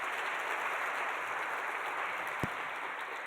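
Sustained applause from a luncheon crowd at a charity auction, a dense, even wash of clapping heard from some distance, steady throughout with one sharp knock near the end.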